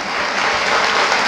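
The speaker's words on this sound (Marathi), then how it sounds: "एकदा टाळ्या होत्या भास्कर जाधव सरांसाठी" An audience applauds for Bhaskar Jadhav at a public talk: a dense, steady burst of many hands clapping together, loud and continuous for a moment.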